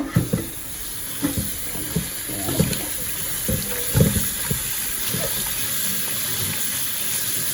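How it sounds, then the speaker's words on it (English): Tap water runs steadily while cabbage is washed under it in a kitchen sink, with intermittent splashes and knocks as the leaves are handled, and no speech. "So now we're gonna be washing the cabbage off."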